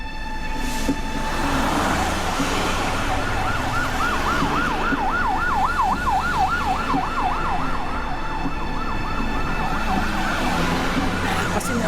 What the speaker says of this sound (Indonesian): Pasti ini ambulans.